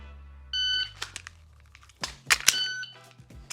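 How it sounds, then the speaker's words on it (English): A pistol magazine reload during standing dry fire practice indoors: a few firm plastic-and-metal clicks and thunks spread across the moment, with short electronic beeps sounding between them. "We're gonna do our standing still reload"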